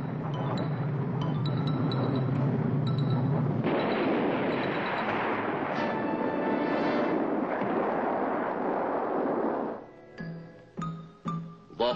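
A surface-to-air guided missile is fired and launched, giving a loud sustained roaring blast that fills several seconds before cutting off into sharper clanks and pings at the end; no one speaks.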